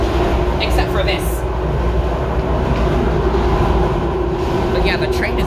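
Ride aboard a Miami Metrorail electric train: a constant loud interior rumble and hum with faint rail clicks, and a voice speaking over it.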